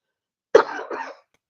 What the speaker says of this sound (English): Obviously, still coughing, but not as bad.